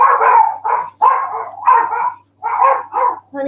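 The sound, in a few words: dogs barking at a delivery at the door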